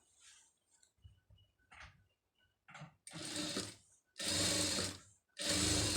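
A sewing machine runs in short bursts while stitching a silk-bordered blouse neck design, starting with faint quick taps and building to three loud, sustained whirring runs separated by brief pauses.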